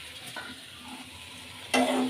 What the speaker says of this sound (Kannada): ಒಗ್ಗರಣೆ ಕೊಡ್ತಿದ್ದೀವಿ